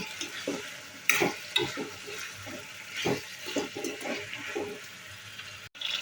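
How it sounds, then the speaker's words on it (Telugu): Capsicum pieces fry in a spiced tomato masala and are stirred in the pan, giving repeated close scraping and stirring strokes over a soft, wet sizzle, with no voices. "కట్ చేసుకున్న క్యాప్సికమ్ ముక్కలు వేసుకొని అంతా ఒకసారి బాగా కలుపుకొని"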